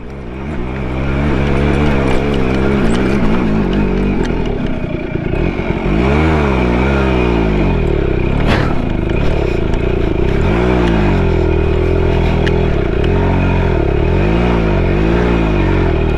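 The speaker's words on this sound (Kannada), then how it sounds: "ಸ್ವಲ್ಪ ಇಂಜಿನ್ ಟ್ಯೂನ್ ಮಾಡಬೇಕು ಇದು ಪಿಕಪ್ ಕಡಿಮೆ ಉಂಟು" A Suzuki Max two-stroke motorcycle with weak pickup rides natural off-road trails, its engine loud and close throughout, rising and falling steadily in pitch as the rider works the throttle.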